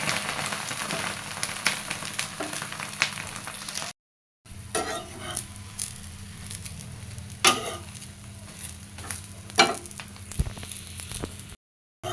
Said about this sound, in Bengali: ডিমটা বসাই দিছি এবার এটা ভাজি হোক